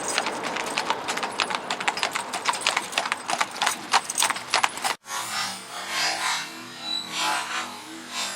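A horse's hooves clip-clop in a steady, brisk rhythm along a road, close and clear, before cutting off abruptly into quieter outdoor ambience.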